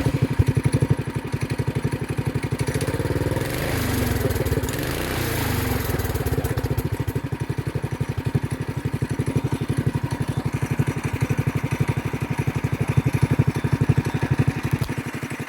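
A go-kart's small engine putters steadily at idle, its rapid rhythmic chugging holding even and close throughout.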